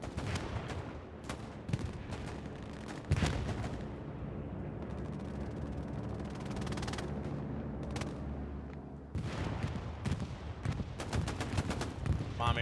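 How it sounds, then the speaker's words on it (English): Artillery fire pounds a Hell Let Loose battlefield in a D-Day scenario: repeated heavy booms and sharp blasts land amid steady rattling gunfire, with bursts of impacts clustered early and late over a continuous roar of combat. "especially with artillery falling in."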